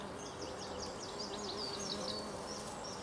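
Bees buzz softly in the background, a faint steady insect hum with a few short high chirps darting over it.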